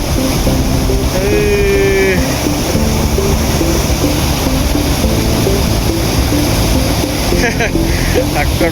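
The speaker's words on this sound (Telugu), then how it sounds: "ఇది వచ్చేసి వాటర్ ఫాల్ పై నుండి పడుతుంది." Jamzir waterfall near Kankai in Gujarat pours down from above, making a loud, steady roar of rushing water that fills the whole scene, with voices talking over it.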